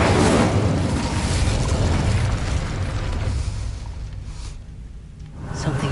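An Incendio fire spell in Hogwarts Legacy lets out a loud, sustained fiery burst, a dense roaring whoosh that holds for several seconds and then thins out, with a small flare near the end.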